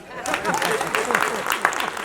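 An audience at a film festival award ceremony bursts into brief applause, a short spell of dense clapping heard over a voice speaking.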